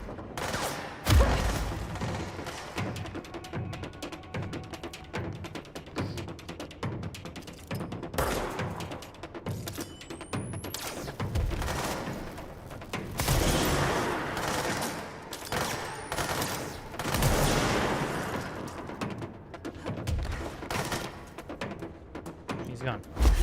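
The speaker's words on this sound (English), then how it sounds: "Oh! Machine guns!" Rapid bursts of machine gun fire from the video game Control, a dense, sustained clatter of shots with booms and mechanical noises mixed in, under occasional speech.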